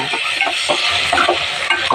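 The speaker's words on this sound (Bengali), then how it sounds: "ছেড়ে দিয়ে ভালোভাবে নাড়ি" Rice and lentils for khichuri are stirred in a hot pot, with scraping strokes and soft sizzling in quick, uneven rhythm.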